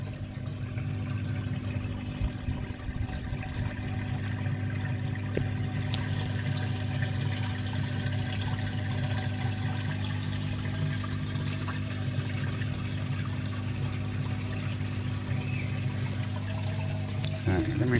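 Water poured from a bowl through a net at a koi pond, a continuous steady splashing and trickle lasting the whole stretch, fairly loud and close with a low hum beneath.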